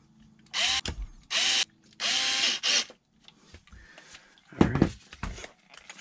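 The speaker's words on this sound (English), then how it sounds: "We can do these three screws on the bottom here without changing out the bit." A power drill drives screws into the bottom of a HoBao MTX RC car chassis, with several short, loud whirring bursts followed by quieter ratcheting clicks and handling noises, close up.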